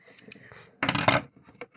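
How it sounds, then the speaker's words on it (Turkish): Scissors cut through packing tape to open a package, a short crisp rasping snip in the middle surrounded by light handling rustles and clicks. "Buradan bant, e, makasla açacağız bantlamışlar"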